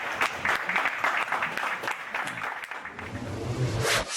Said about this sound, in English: let's give Stacy a nice round of applause